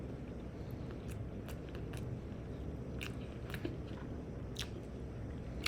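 Someone eats a barbecue pork chop up close, making soft repeated bites and chewing with occasional crisp crunches over a faint low background hum.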